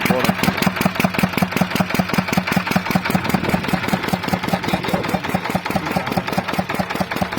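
An old air-cooled diesel engine with an aluminium body, still in working condition, chugs loudly in a fast, even knocking rhythm, with someone speaking over it.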